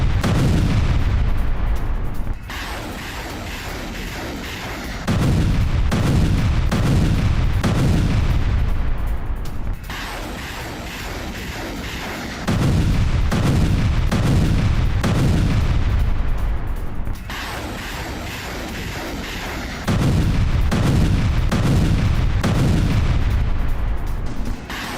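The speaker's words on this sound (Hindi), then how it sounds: "ये देखिए जरा रूस का एमएलआरएस अटैक है" Russian multiple rocket launcher attack, with loud roaring launch bursts repeating roughly every five seconds, each a sustained blast that drops to a lower rumble between salvos. No one speaks.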